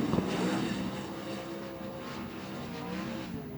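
A winged race car on a time trial lap at Greenstone Park roars past with a loud, steady engine note that rises and falls slightly as it runs.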